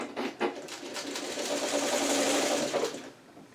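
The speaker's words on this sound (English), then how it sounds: "now, we're going to sew the rest of it" A sewing machine stitching small pieces of a churn dash quilt block, one close, quiet whirring run of about three seconds that rises, holds steady and then stops.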